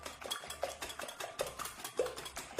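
Free-range eggs lightly beaten in a bowl with a fork or whisk, giving quick, steady clinking and tapping strokes against the bowl, close and fairly soft, with no talking.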